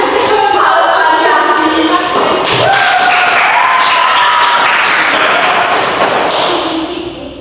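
Children in a classroom clap and cheer loudly up close, with scattered thumps, while tonal shouting voices ring over the clapping throughout before it fades at the end.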